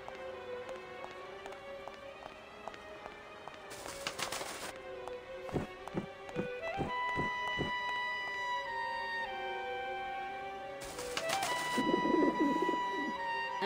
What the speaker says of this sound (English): They're very creepy pigeons. I mean, they're skeleton pigeons.